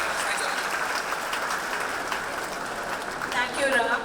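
Audience applause at an awards ceremony, a steady dense patter of many hands clapping throughout, swelling slightly near the end.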